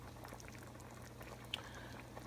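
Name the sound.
ham hock pot liquor boiling in a pot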